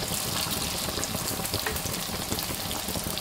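Youtiao dough sticks fry in very hot oil while being turned, producing a loud, steady, dense sizzle and bubbling that runs without a break and with no talking.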